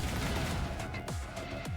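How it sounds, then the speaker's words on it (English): Gunfire in the Punishing Gray Raven video game, a few sharp cracks with short ringing tails that suggest ricochets in narrow alleys, spaced out over a low rumbling battle bed, fairly quiet. "Gunshots ricochet through the alleys."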